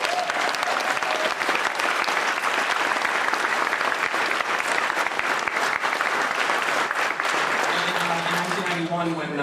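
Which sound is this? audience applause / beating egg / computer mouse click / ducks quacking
audience applause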